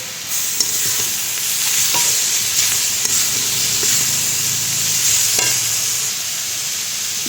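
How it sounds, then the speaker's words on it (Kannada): Soaked poha is stirred into roasted vegetables in a frying pan, giving a steady close sizzle broken by repeated scraping stirs of a spoon against the pan. "ಅವಲಕ್ಕಿ ನೆನೆಸ್ಬಿಟ್ಟು ಹಾಕ್ತಾಯಿದ್ದೀನಿ"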